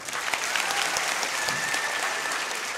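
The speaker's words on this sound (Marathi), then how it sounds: "एकदा टाळ्या वाजवा विचार मंचासाठी." An audience of young people claps for the stage at a student guidance event held for a birthday, giving a dense, even roar of applause throughout.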